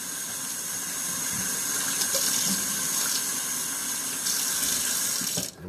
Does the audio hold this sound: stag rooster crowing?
no